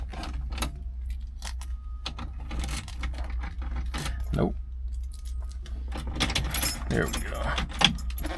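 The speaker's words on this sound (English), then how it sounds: "We got 2 sets of keys." Car keys jangle and rattle steadily while a 1967 Mustang is being started, a close metallic clinking over low background rumble, with someone speaking briefly.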